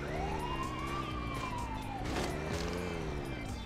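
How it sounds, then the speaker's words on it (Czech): Wailing emergency siren of a fire engine or ambulance in the PC game Grand Theft Auto 2, a loud continuous rising-and-falling tone over steady traffic and engine noise. "To nejsou Poldové, to jsou hasiči nebo sanitka."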